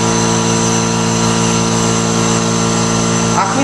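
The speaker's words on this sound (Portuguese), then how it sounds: "Esse barulho que vocês estão escutando é da bomba a vácuo" A vacuum pump runs on a rotary evaporator during a laboratory separation of substances, giving a loud, steady, close mechanical drone with a constant hum throughout.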